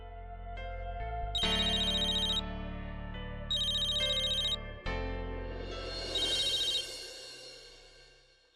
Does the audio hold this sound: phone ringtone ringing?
yes